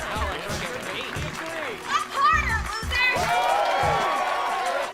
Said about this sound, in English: When she does, everyone starts cheering.